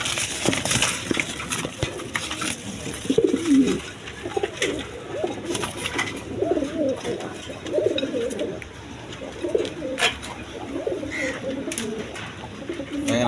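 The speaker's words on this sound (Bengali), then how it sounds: "বন্ধুগণ এখানে এক পেয়ার ইম্পোর্টের কবুতর আছে" An imported pair of pigeons, a male and a female, coo repeatedly in soft, rhythmic low phrases at close range, with scattered rustling and clicks around them.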